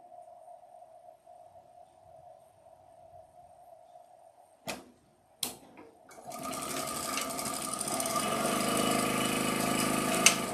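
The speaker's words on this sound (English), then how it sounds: "I don't know why I'm back stitching." After a quiet hum and a couple of sharp clicks, a sewing machine starts back stitching on a quilt, a close, loud and fast mechanical whir that runs steadily to the end.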